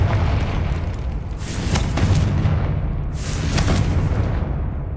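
Bombarda and Confringo spell blasts in the video game Hogwarts Legacy, two loud booming explosions about two seconds apart, each with a crackling burst above a steady low rumble, and no talking.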